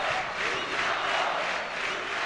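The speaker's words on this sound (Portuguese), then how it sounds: "E a torcida reconhece e grita:" Stadium crowd at the 2007 Pan American Games volleyball final in Rio, Brazil versus USA, chanting the player Gustavo's name in a dense, steady roar with a rhythmic swell, heard at a distance.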